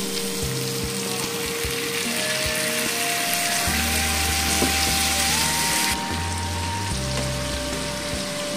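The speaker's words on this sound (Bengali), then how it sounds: "এটাকেও আমি এবার ভালো করে মিশিয়ে নেব। তো আমি এর মধ্যে এবার মশলাটা অ্যাড করে দেব।" Spices being mixed and fried in a pan with potatoes and pointed gourd, a continuous loud close sizzle like rain on a surface, with steady tones running underneath and occasional knocks.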